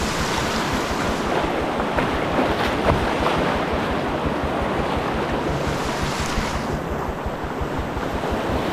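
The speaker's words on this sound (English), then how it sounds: "looks like it's a pretty good rapid here. So I'm gonna run it." Whitewater rapid in the Yukon wilderness over smooth bedrock, a steady, loud rush of churning water filling the whole clip with constant broadband turbulence and no voices.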